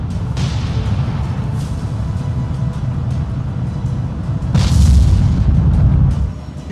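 Warship turrets and secondary naval guns fire in a World War II naval video game, with heavy booms, one big blast near the middle followed by sustained rumbling, over a continuous battle roar.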